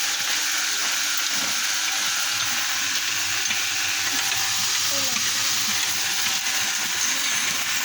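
Rice is heated and puffed rice roasted in a stirring machine, a dense, steady sizzling and rustling hiss that runs unbroken throughout.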